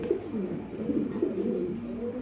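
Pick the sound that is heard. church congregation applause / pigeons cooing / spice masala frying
pigeons cooing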